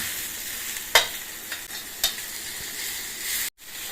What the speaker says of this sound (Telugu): సో ఇప్పుడు మొత్తం మనం అన్నీ వేగనివ్వాలి ఆనియన్స్ పచ్చిమిర్చి టమోటా మూడు బాగా వేగనివ్వాలి